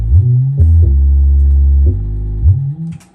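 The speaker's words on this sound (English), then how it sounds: "I added a bass." A deep, heavy bass line in an Amapiano dance beat, with long sustained low notes sliding between pitches, loud and upfront with a faint beat above it.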